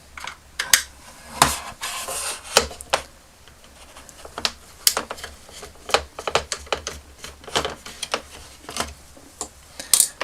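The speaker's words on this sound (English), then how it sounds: "I've just got a Phillips screwdriver here and we can unscrew those" A Phillips screwdriver backing screws out of a vintage Star Wars toy laser pistol gives irregular light clicks and ticks, close and fairly quiet, with short pauses between clusters and no talking.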